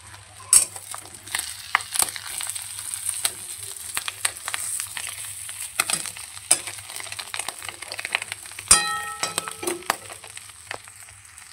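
A boiled egg fries in a pan with a steady crackling sizzle, broken by several sharp spatter pops and occasional clinks of a utensil against the pan, close up.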